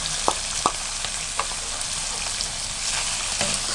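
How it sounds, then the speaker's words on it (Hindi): Chicken tikka sizzles steadily in hot oil, a dense, loud frying hiss with a few sharp stirring clinks near the start. "और इसको फ्राई करें।"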